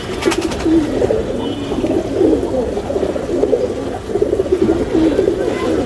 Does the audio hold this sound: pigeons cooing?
yes